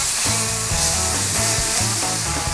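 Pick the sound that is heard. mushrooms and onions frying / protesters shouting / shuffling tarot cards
mushrooms and onions frying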